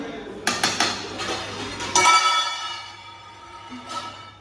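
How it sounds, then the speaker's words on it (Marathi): A lid goes onto a cooking pot with several sharp metallic clanks, then a fuller ringing clatter that slowly fades in a home kitchen. "आता देऊया झाकण याच्यावर."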